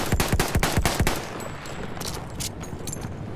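A rapid burst of close gunfire from the Battlefield 1 video game, about half a dozen sharp shots in the first second, then fading into a distant battlefield clatter with scattered far-off shots.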